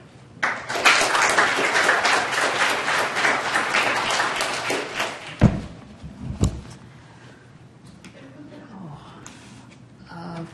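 Sustained audience applause at an Indigenous graduate student symposium welcoming a scholar to the podium, dense clapping for about five seconds before fading into a few isolated claps and quiet room noise.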